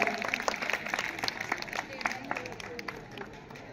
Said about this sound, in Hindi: ताली बजाकर स्वागत करें